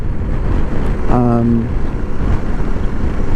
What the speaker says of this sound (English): Bloody wind everywhere.